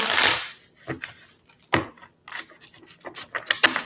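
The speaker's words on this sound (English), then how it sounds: "This is the last shuffle." Tarot cards are shuffled by hand in quick, irregular riffles and slaps, each a short crisp burst close to the listener, with brief pauses between them.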